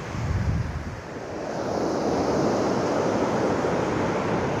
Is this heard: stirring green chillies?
no